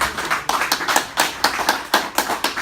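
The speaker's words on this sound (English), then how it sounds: "Let's have a round of applause for Scott O'Brien." A small audience at a beach broadcast claps, with distinct, close individual hand claps in an uneven rhythm, a sparse cluster rather than a full roar.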